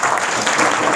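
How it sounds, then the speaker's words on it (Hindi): Congregation clapping in a church during a Pentecost sermon, a dense, steady burst of applause filling the room for about a second. "अपने लिए तालियां बजाएंगे ज़रा।"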